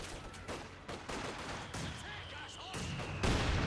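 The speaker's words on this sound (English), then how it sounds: "Mortar fire running down." Mortar fire in the Company of Heroes 2 strategy game: repeated muffled explosions and battle noise rolling under a dense wartime soundscape, with a sharper burst near the end.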